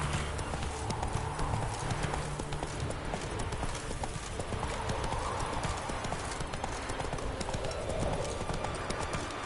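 Horse hooves clip-clop steadily at a quick gallop in The Witcher 3 video game, a continuous rhythmic pounding over a dense, noisy game soundscape.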